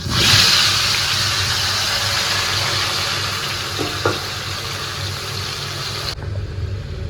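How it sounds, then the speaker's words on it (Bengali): Spiced potatoes coated in Kashmiri chilli powder go into hot oil and fry with a steady, dense sizzle close by, with a couple of faint utensil knocks and the hiss dropping away near the end. "এইবারে তেল গরম হয়ে গেছে, এবারে আলুটাকে ছেড়ে দিচ্ছি"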